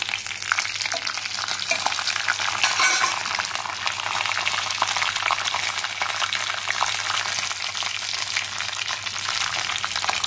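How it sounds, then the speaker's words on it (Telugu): Peanuts and curry leaves fry in hot oil with a loud, continuous close sizzle and crackle that lasts throughout, with no talking over it. "నూనె కాగింది కనుక ఇందులో కాస్త ఒక గుప్పు పల్లి వేసుకుంటున్నాం"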